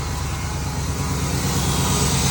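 A 2004 Chevy Tahoe with its factory exhaust idles steadily and smoothly close by, a low, even engine rumble holding constant for a couple of seconds with no voices over it.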